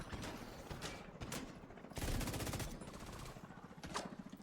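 Sustained automatic fire from the Pestilence light machine gun in The Division 2, a steady rapid rattle of shots at moderate loudness, with a short sharper volley in the middle.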